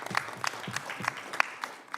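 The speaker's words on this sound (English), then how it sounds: "Yeah, you can clap him up." Light, scattered clapping from a small audience at a talk on the criminal justice system: a few distinct claps at an uneven rhythm, fairly quiet and close, with no voices over them.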